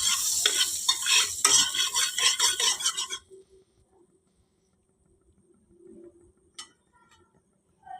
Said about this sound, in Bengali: একটু নাড়িয়ে নিচ্ছি, বাটারটা গলা অবধি ওয়েট করবো।